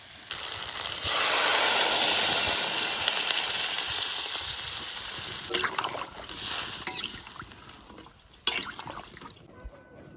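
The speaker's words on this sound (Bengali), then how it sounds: "আলু ওলকপি ভাজা হয়ে গেছে, এবার জল দিয়ে দেবো" Water is poured into a pan of fried potato and kohlrabi curry, making a rushing hiss over the hot contents that fades into quieter bubbling and a few clattery knocks near the end.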